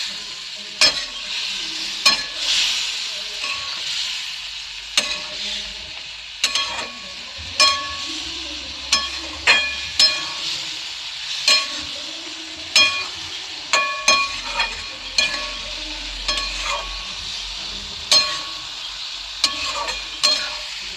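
Flat beans (shim) being sautéed in a pan, a continuous close sizzle punctuated by regular spatula strokes and scrapes against the metal, repeating every second or so throughout, with no voice.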